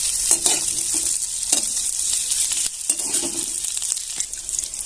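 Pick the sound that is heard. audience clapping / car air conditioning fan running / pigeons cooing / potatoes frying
potatoes frying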